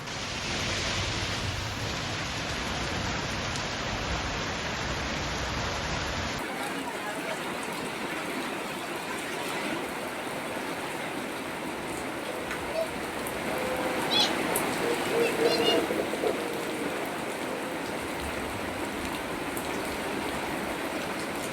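Heavy unseasonal rain pouring down in Ratnagiri, a steady broadband hiss that holds throughout, with a brighter, noisier texture in the opening seconds before settling into a dense, even downpour.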